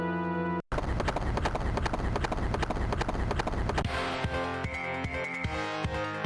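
Rapid hoofbeats of a horse clip-clop steadily under driving music in a retro video game, loud and continuous, with the rhythm shifting partway through.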